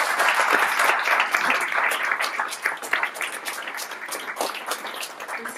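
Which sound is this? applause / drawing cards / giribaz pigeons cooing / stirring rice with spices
applause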